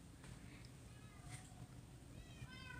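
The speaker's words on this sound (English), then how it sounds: "I hear a cat." A cat meows faintly, a few short high mews rising over a steady noisy background and low chatter, heard while someone plays Minecraft.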